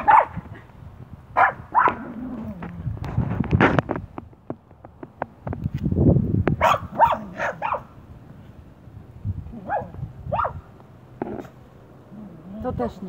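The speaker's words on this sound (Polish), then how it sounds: "Nie szczekamy." A Puli dog barks in short, sharp bursts scattered across the clip, close and fairly loud, with someone speaking between and over the barks.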